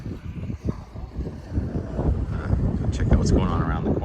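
Gusty wind buffets the microphone on an open, cleared bluff, a steady low rumble with rising gusts and no talking.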